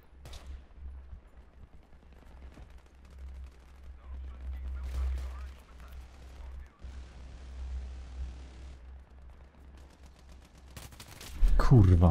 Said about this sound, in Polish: Kto do nas strzela?